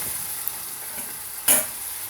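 Food frying in a pan for a jambalaya-style dish, a soft steady sizzle with a brief louder hiss as more ingredients slide in.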